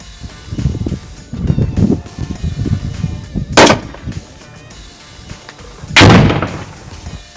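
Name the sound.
grenade launcher fire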